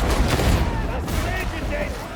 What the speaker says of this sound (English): Take one for me! Throwing grenade!